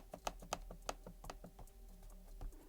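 Keys pressed on an ASUS ROG Strix G17 laptop keyboard with a plastic top and full number pad, a quick run of close, crisp taps with a few sharper louder strokes, heard alone.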